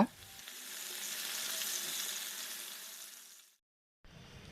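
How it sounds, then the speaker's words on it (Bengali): Poa fish fry in oil in a pan with a loud, steady sizzle after being flipped, which fades out, drops to silence, then resumes faintly. "মাছগুলোর এক পাশ ভাজা হয়ে গিয়েছে এবার উল্টিয়ে অপর পাশ ভালো করে ভেজে নিব"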